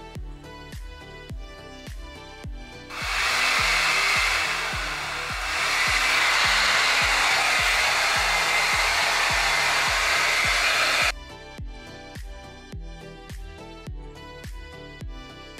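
A MermadeHair blow dry brush runs on its hot setting, high heat and high power, with a steady airy roar lasting about eight seconds over rhythmic background music.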